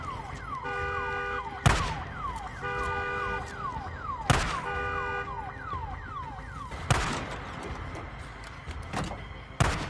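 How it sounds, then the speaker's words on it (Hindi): In the zombie game Days Gone, a car alarm cycles through repeated rising and falling electronic tones, punctuated by several sharp impacts, loud and continuous throughout. "अलार्म बज गया, ज़ॉम्बीज आने लगे।"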